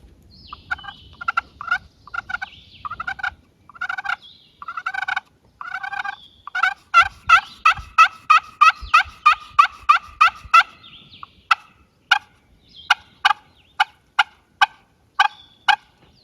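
A wooden-cased turkey pot call gives a run of sharp, rhythmic clucks and putts, close and loud, speeding up then spacing out into single evenly timed notes.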